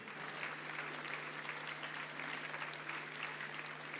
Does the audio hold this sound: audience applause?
yes